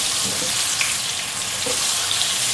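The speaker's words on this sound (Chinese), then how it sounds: "把姜的香气炒出来" Carrot and ginger slices stir-frying in hot oil, a loud, dense, continuous sizzle with faint scraping of the spatula, close and steady throughout.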